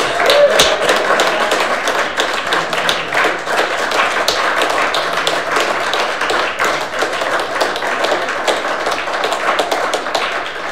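Steady audience applause at an American Legion oratory contest, many hands clapping in a dense, even patter that holds at a constant level throughout with little talk.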